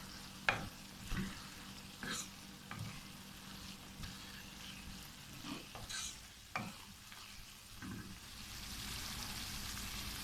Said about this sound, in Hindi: इसको अच्छी तरह मिक्स कर लेंगे।